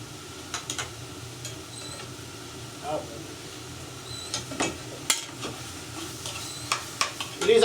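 Mushroom risotto sits in a pan with a quiet, low sizzle, broken by scattered soft scrapes and clicks of a spoon against the pan, while a voice talks faintly.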